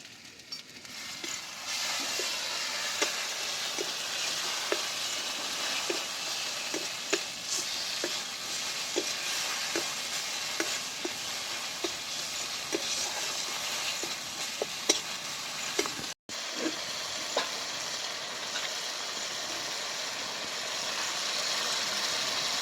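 Masala with turmeric and chili powder frying for a village-style egg curry, a steady loud sizzle close by with a regular scraping stir running through it, briefly cut off near the end.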